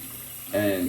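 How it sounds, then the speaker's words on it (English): Tap water running onto a shaving brush in a sink to soak it for a straight razor shave, with the flow starting midway and continuing as a close, steady splash, while someone speaks. "then you're going to grab your brush and put it in. And I'm just gonna let it collect water, spin it around"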